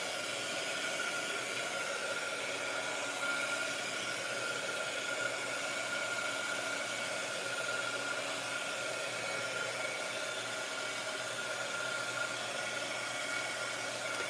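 A hair dryer blows steadily to dry art pages, a close, continuous broadband whooshing roar with a faint motor whine, unchanging throughout.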